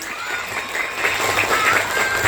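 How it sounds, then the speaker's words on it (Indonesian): An audience at a school Maulid celebration claps for a young child preacher, a brief, steady patter of applause from a nearby crowd. "Tolong tepuk tangannya."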